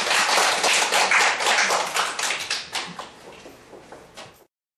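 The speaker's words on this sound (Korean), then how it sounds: "좋은 기분으로 박수 한번" Audience clapping at an elementary school reading debate contest in Seoul: a burst of brisk, close applause from a group that thins out and fades over about four seconds, ending in silence.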